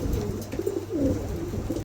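A pair of pigeons gives low, throaty coos in a close, continuous rolling series, clear over a faint background hum.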